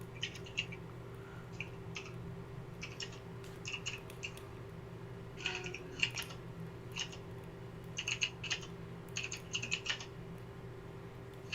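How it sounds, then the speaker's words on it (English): Clicky keyboard typing in scattered bursts of rapid keystrokes, fairly close, over a low steady background hum. "Sorry if you hear my clicky clack of my keyboard."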